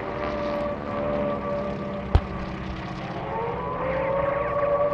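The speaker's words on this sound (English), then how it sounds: "Listen to the sound of the radial engines." Deep droning hum of Japanese Zero radial aircraft engines at an Oshkosh airshow Tora Tora Tora reenactment, sustained and rumbling with wavering tones, plus one sharp crack partway through.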